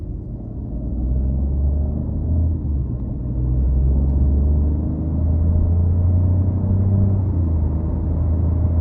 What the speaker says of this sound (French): Ça va me permettre de pouvoir faire une accélération un peu plus poussée et arriver à la fin de la ligne.